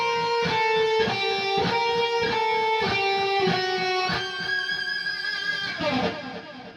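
A neoclassical shred lick on a distorted electric guitar runs as a rapid, even stream of picked notes in repeating groups, loud and close, ending on a sustained ringing note with no talking.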